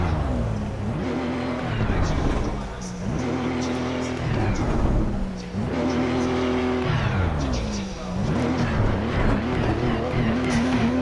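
A race car engine in the racing simulator Automobilista 2 repeatedly revs up and drops through gear changes, with rising and falling engine tones, turbo whoosh and some tire noise, while someone talks over it.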